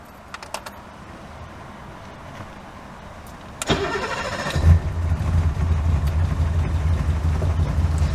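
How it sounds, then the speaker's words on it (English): A 1984 BMW 533i has a few faint clicks, then a starter cranks briefly before the engine catches and settles into a steady, low rumbling idle, close and loud, with no talking. "Let's start the engine."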